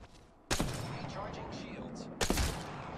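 Sniper rifle in Apex Legends fires two loud, sharp cracks about two seconds apart, each with a booming tail, over steady game ambience.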